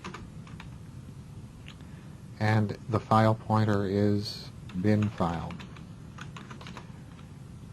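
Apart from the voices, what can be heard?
typing on a computer keyboard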